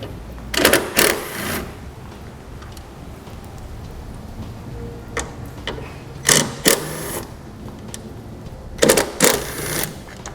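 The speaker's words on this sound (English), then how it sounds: "You'll use a 10mm socket to remove the bolts located here." A socket wrench works on taillight bolts, giving several short bursts of rapid ratcheting clicks in clusters separated by quiet gaps, close and fairly loud.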